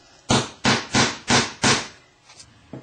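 Five sharp, evenly spaced hammer blows drive nails into wood in a steady rhythm, followed by a couple of fainter taps, close and clear.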